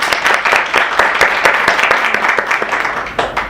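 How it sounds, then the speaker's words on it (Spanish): An audience at an academic research conference panel applauding a speaker, dense hand clapping from many people in a hall that holds steady for several seconds. "Le damos un fuerte aplauso a la maestra Priscila."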